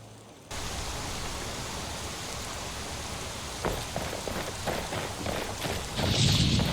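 Steady rain hisses in a modded Skyrim game world, a soft even wash of falling drops that starts abruptly and builds with heavier patter and faint rumbles toward the end.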